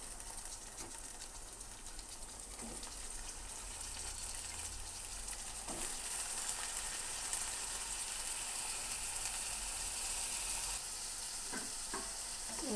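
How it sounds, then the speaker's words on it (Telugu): Cut brinjals (eggplants) fry in hot oil with curry leaves, giving a steady, close sizzle for the whole stretch, broken by a few soft stirring clinks. "ఇప్పుడు ఇందులో ముందుగా మనం కట్ చేసుకున్న వంకాయలు యాడ్ చేసుకోవాలి"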